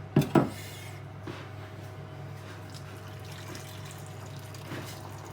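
Hot liquid is poured in for ramen noodles: a couple of sharp knocks of a container first, then a soft, steady pouring wash that runs faint and close with no speech.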